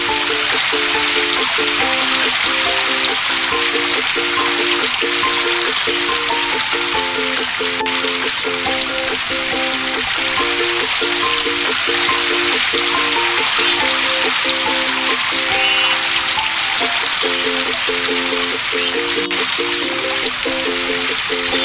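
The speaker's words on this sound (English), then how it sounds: "Use the watering can to water the seeds." Watering can pouring over seeds in a children's home-adventure video game: a steady trickling, streaming water effect, close and fairly loud, running unbroken throughout alongside a repeating plinky tonal game melody.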